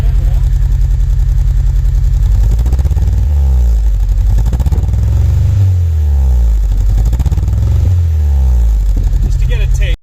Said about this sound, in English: You could rev it a bit.